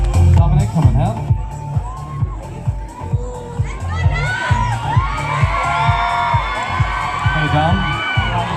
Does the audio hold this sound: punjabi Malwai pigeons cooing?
no